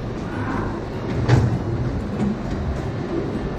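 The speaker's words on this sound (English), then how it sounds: "We're actually taking the subway that's located underneath the old State House to head home." Boston Orange Line subway train running underground beneath the Old State House, a steady close rumble of rails and car noise with a brief louder surge midway and no talk.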